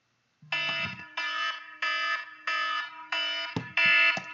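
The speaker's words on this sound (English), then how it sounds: "And the timer's going off" A kitchen-style timer alarm goes off in a run of six loud, shrill electronic beeping bursts, each roughly half a second long with short gaps, close and alone with a brief bump of handling noise near the end.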